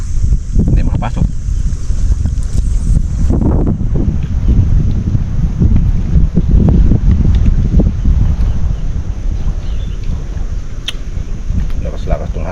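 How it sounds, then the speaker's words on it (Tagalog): Strong wind roars and buffets steadily across the open water around a small fishing boat out on handline fishing. The blowing is loud and continuous, with voices talking under it. "Lakas-lakas tong hangin na to."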